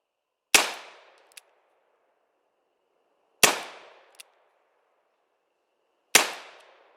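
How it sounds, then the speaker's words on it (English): .45 Colt revolver rounds fired at a distant backstop outdoors: three loud, sharp shots about three seconds apart, each with a decaying tail and a faint distant impact soon after. "We're going to shoot these at the distant backstop."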